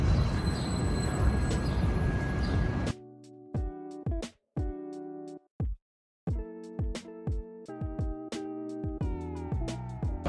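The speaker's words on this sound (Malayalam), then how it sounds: "ഇതാണ് ഹഡ്സൺ ബർഗൻ ലൈറ്റ് ട്രെയിൽ. അപ്പോൾ ലൈറ്റ് ട്രെയിൽ എന്ന് പറയുന്നത് ഇവിടുത്തെ ട്രാം ആണ്." A Hudson Bergen Light Rail tram in New Jersey rumbles loudly at first, then its warning chimes ring in repeated bright, bell-like tones with short pauses between them.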